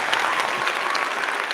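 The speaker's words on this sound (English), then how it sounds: "Give him a round of applause." Brief burst of steady applause from a crowd, dense and even throughout, with no voices.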